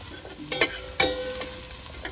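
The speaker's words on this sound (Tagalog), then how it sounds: "Antayin lang natin mainit yung ating mantika. Tsaka mag-brown yung ating luya." Ginger frying in hot oil in a pan for sautéed mussels, with a steady low sizzle broken by a few sharp clinks and scrapes of stirring, close and alone.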